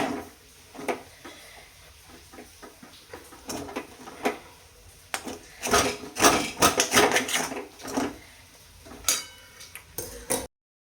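Sabudana khichdi being stirred and tossed in a pan, heard as a run of close, irregular scraping clicks and clatters of a spoon against the metal, busier and louder in the middle, with no talking.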